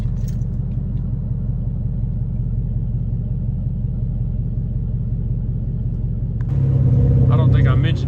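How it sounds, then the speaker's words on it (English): The Hemi V8 of a Dodge Challenger R/T idles at a red light, a loud, close, steady low rumble with a lumpy pulsing beat that swells slightly louder near the end. "It's how a Hemi should sound. Sitting at the red light, just listen to it."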